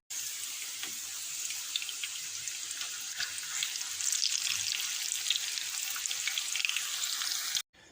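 Steady crackling sizzle of Polish potato pancakes frying in a hot pan over medium heat, bright and continuous with small pops, close up and with no talking.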